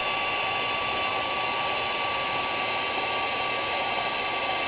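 A heat tool blows hot air over embossing powder on paper, a loud, constant whirring hiss with a steady high whine, close and unbroken with no speech.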